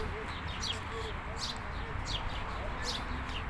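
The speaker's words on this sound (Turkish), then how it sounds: "Kuşların çok güzel sesi insana huzur veriyor, rahatlık veriyor." Birds chirp and tweet intermittently in a park in Kayseri, over a low background hum, several short high calls scattered across the clip.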